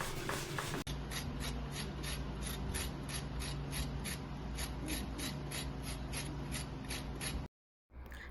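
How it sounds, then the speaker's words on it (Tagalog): Carrots are grated by hand against a grater in quick, regular rasping strokes, about two per second, close and steady, ending with a brief silence. "saka kayurin natin yung ating carrots"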